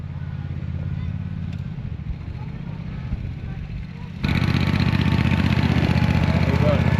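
A lawnmower engine runs continuously nearby on Arranmore Island, Ireland, then grows suddenly louder and brighter partway through as it draws closer, droning steadily without pause.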